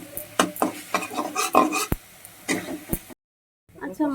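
A spice paste of onion, garlic, ginger and tomato is stirred and fried in a pan for Bengali aloo dum: irregular close scrapes and knocks of a utensil against the pan, a brief silence, then more stirring.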